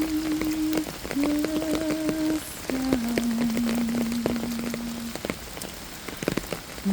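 Steady rain patters on a surface with crackling droplet hiss throughout, while a soft melodic hymn tune plays over it at moderate level.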